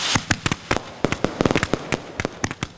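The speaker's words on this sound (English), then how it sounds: "Watched us shoot fireworks off from Squaw Island" Fireworks set off from Squaw Island near its lighthouse crack and pop in a rapid, irregular volley of sharp, loud bursts close by, with no talking.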